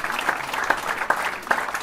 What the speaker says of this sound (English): Start clapping right now for the hilarious Rich Voss.